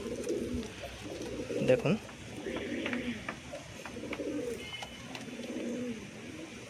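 Pigeons with black bound tails coo in a steady, repeating rhythm of low rolling calls, fairly close, while a person speaks briefly over them outdoors under a cloudy sky.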